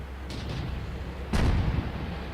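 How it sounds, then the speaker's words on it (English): Artillery shells strike a heavy tank, the KV-1S, in a tank battle game: two sharp booming impacts, a softer one early and a louder, heavier hit midway, over a steady low engine rumble. "Artillery hit me, but did 0 damage."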